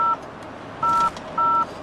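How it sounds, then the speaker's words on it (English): Dialing tones from a hands-free Bluetooth car kit calling voicemail in a moving car: three short, clear dual-tone beeps over low road noise. "So I'm just gonna call my voicemail here since I'm driving here."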